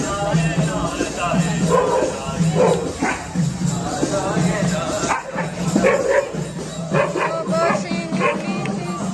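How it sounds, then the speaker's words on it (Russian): Several dogs bark and yip in a scuffle at night outdoors, the sound busy and continuous over roughly nine seconds, mixed with crowd noise and someone talking. "Собачьи что-то не поделили."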